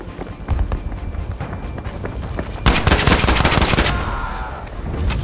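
Gunfire in the video game Battlefield V: scattered single shots, then a loud sustained burst of automatic fire up close over a low rumble of battle, alongside footsteps.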